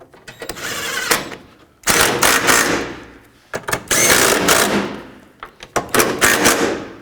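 Ratchet or wrench work tightening bolts on the upper radiator support of a 2012-2020 Ford Focus, in three bursts of close, loud, rapid clicking and whirring separated by brief pauses.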